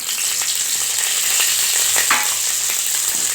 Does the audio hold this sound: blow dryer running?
no